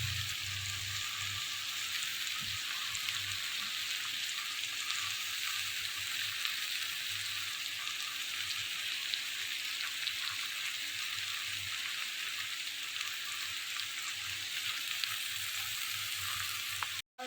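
Pumpkin stems frying in a pan for a sweet vegetarian pumpkin curry, a steady, close hiss and sizzle that runs evenly throughout with no one talking.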